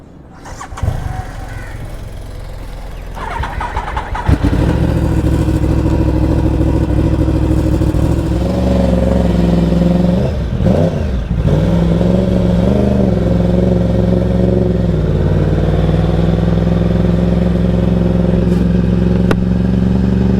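A motorcycle engine cranks, catches and settles into a loud, steady idle close by, then revs and pulls away, with a continuous throaty rumble that shifts in pitch as it rides off.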